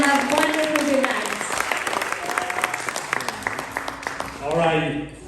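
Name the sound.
audience applause for the MC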